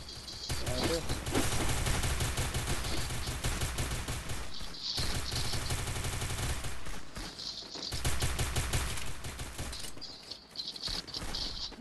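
Rapid bursts of automatic gunfire from a Free Fire battle royale match rattle in dense volleys with brief pauses between them, loud and close, with a voice talking over parts of the action.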